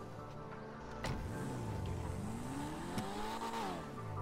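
A car engine in Grand Theft Auto V revs up and down in rising and falling sweeps, with a sharp jolt early on and a steady roar throughout, no talking.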